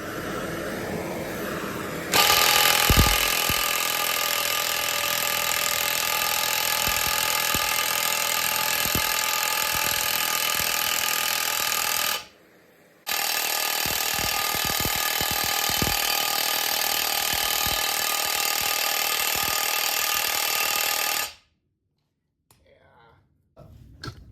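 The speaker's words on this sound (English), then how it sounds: "So I'm gonna keep using the torch here and then keep driving it until that pops out." A ball joint is driven out of a 2000 Ford Excursion after heating with a torch. A loud, continuous hammering rattle runs close up, breaks off briefly midway, resumes, then stops, with scattered clicks.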